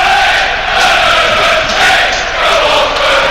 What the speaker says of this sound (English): Luton fans in fine voice, as you can hear